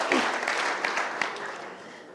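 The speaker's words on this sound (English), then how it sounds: "I know, we should clap for that." A brief burst of audience applause at the Grand Rapids mayor's State of the City address, moderate clapping that fades over about two seconds.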